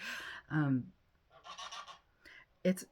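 Several goose honks, nasal and uneven, come in short bursts with brief pauses, fairly close and loud against a quiet background.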